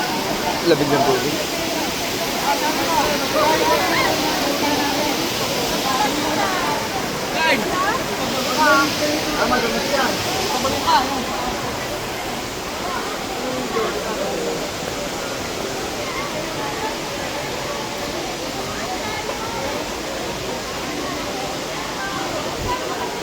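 Steady rushing roar of a waterfall at Villa Escudero in Tiaong, Quezon, broad and continuous throughout, with people talking faintly underneath.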